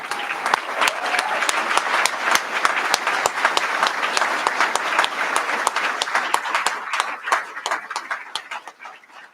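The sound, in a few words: applause at white coat ceremony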